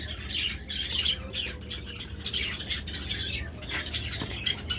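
A crowd of caged budgerigars and lovebirds squawks and chirps at once, a busy overlapping chatter of sharp calls at moderate volume, with occasional wing flutters and no speech.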